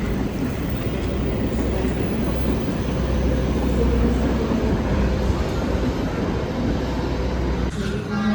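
A Bengawan passenger train rolls along the rails, a steady loud rumble of wheels and carriage noise heard from inside the car, continuous with no pauses.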